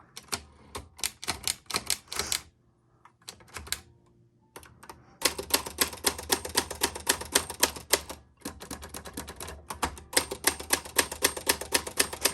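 Vintage 1962 Olympia Splendid 33 portable typewriter with burgundy keys, typed on close up: rapid sharp clacking keystrokes in dense bursts, a brief pause with carriage sounds, then long steady runs of loud mechanical typing.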